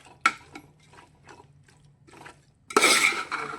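A spoon stirs chicken dum biryani in a pot, with soft scraping strokes at first and then a louder, rough scrape and clatter near the end, close by with no voices.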